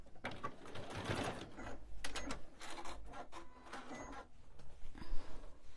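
A sewing machine stitching the seam of a Christmas stocking: faint, quick mechanical whirring and clattering in short uneven bursts, with muffled handling noises and no clear speech.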